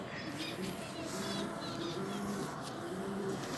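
Pigeons, including silver and breeder males, coo softly in a bird market in DG Khan, with repeated low murmuring calls over a constant background hum.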